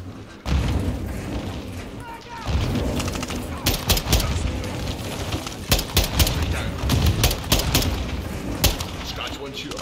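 Grenades launched in the Modern Warfare 2 campaign: heavy booms and thuds mixed with dense bursts of rapid gunfire, loud and sustained, with scattered sharp cracks.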